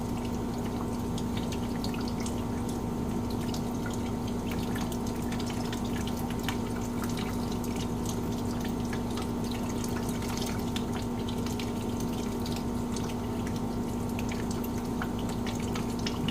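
Water drains steadily from a 1958 Farmall 450 gas tractor into a bucket, a continuous splashing rush with no pauses and no voices.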